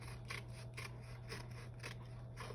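Scissors snipping paper for a glued craft background, about five quick, close cuts in an even rhythm over a low steady hum.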